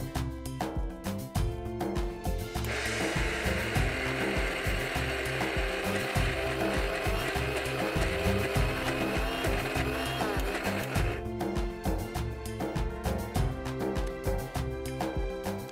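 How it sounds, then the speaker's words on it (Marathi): A mixer grinder coarsely grinds fried lentils for a mixed dal pakoda. A continuous loud whirring grind runs for several seconds between rattling, scraping handling of the jar. "गॅस बंद करूया आणि मिक्सरच्या भांड्यामध्ये काढून त्याची भरड करून घ्यायची"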